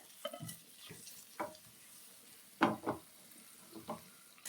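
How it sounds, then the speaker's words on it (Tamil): Food being lightly turned and roasted in a pan, with soft scraping stirs and brief bursts of light sizzle coming in a few separate clusters against quiet background. "நான் அப்படியே லைட்டாக அதை திருப்பி விட்டுக்கிறேன் பாருங்கள்"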